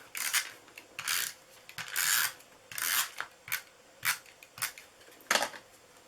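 Snail adhesive tape runner pressed and drawn across a paper card, making repeated short raspy rubbing strokes in an uneven rhythm, close and alone.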